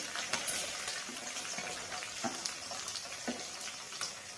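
Onions and green chillies fry in a pan for a village-style broad bean seed masala curry, a steady broadband sizzle running throughout with a few sharper crackles and scraping touches, close and fairly loud.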